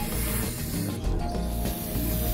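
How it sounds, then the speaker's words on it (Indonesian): Cleaning fluid sprayed onto the intake manifold of a 20-year-old Toyota Kijang Krista, a continuous close hiss running for a couple of seconds amid workshop clatter. "kita boleh semprot nih pakai cairan jahat nih"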